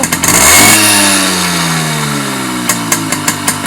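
A Simson moped engine revs up loudly close by, then its pitch slides down as it winds back toward idle, followed by a few sharp regular ticks.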